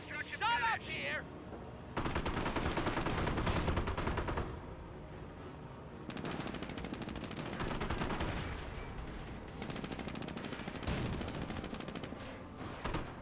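Rapid machine-gun bursts and other gunfire crackle in a Company of Heroes 1 battle, loud dense volleys that pause briefly and then resume over rumbling combat noise, with a voice talking intermittently.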